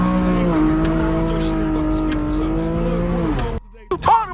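A flame-tuned Infiniti G37 with a slight exhaust leak slides through a turn, a loud sustained tire squeal and engine drone running steadily before cutting off abruptly, followed by a brief burst of voice.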